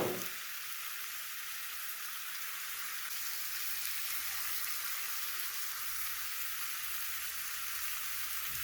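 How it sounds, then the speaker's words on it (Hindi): Chicken frying on a high flame, a steady, even hiss of sizzling oil that holds constant throughout, fairly quiet and uninterrupted. "और हाई फ्लेम पर इसको 4 to 5 मिनट्स के लिए फ्राई कर लेंगे।"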